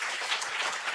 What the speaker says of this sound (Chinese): 我们给他们掌声鼓励